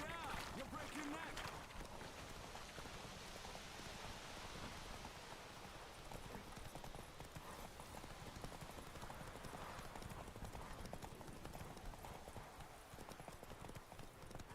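Geralt's horse Roach gallops in The Witcher 3, hooves clip-clopping rapidly and continuously across the whole stretch, with rain-like patter around them and a character's voice speaking over the galloping.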